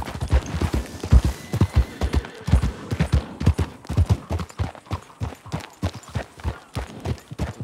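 Horse hooves clip-clop in a video game, a steady run of loud, close hoofbeats at an even walking-to-trotting rhythm, with no voices over them.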